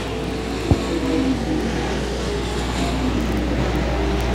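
Race cars roar around a speedway oval in a continuous engine drone, with a brief sharp knock early on and faint pitch sweeps as cars pass on the backstretch, all at a steady mid-distance level.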